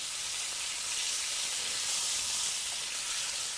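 Pork pieces sear in a hot pan with a steady, close, loud sizzle and frying hiss that runs unbroken from start to finish.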